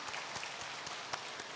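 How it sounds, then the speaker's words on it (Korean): A church congregation at a Korean Sunday service applauds to welcome a newly registered member, giving faint, distant, steady clapping that fills the hall briefly. "박수로 환영하도록 하겠습니다"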